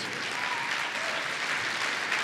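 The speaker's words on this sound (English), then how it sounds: "really warm round of applause" A steady, dense round of applause from a seated audience at a blockchain community meeting, recognizing its pioneers; close, even, and sustained without pause.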